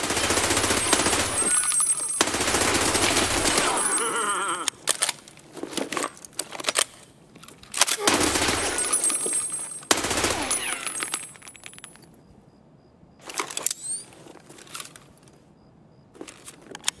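Gunfire in the video game Escape from Tarkov comes as loud bursts of rapid automatic shots, separated by quieter gaps with clicks and rustling.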